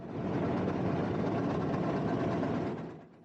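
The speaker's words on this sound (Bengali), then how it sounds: "এই মুহূর্তে আমার সামনে যে ইঞ্জিনটি দেখতে পাচ্ছেন যাকে ট্রেনের ভাষায় লোকোমোটিভ বলা হয়" An old Bangladesh Railway 2500-series diesel locomotive idles with a steady, continuous low rumble and throb, close and fairly loud, before easing off at the end.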